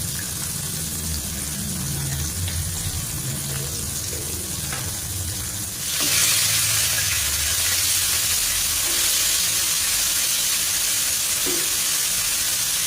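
Battered fried chicken cooks in hot oil, giving a steady, loud sizzle and hiss that swells louder partway through and holds, with no talking.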